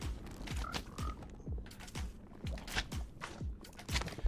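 Frogs croak in the Minecraft video game, a steady run of short, evenly spaced croaks, about two per second, close and clear with no talk over them.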